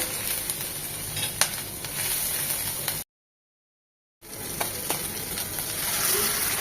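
Ground spices with roasted cumin powder fry in a pan with a steady close sizzle and occasional stirring scrapes, broken by a short complete silence before the frying resumes.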